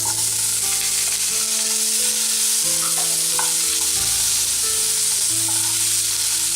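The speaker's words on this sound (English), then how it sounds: "Cook until the onion turns golden brown in color and the tomatoes turn juicy." Chopped onions and tomatoes fry in a pan, giving a loud, steady sizzle with occasional stirring, close up and with no voices.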